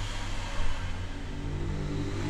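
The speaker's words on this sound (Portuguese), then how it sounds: "Espera aí, deixa essa moto passar." A motorcycle passes along a noisy residential street, a short, loud, continuous engine rumble that swells briefly and fills the whole moment with no talking.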